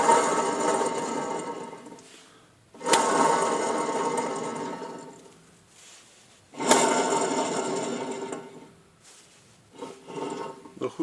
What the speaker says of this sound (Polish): czy tak słychać dźwięk piasty, która już się zużyła.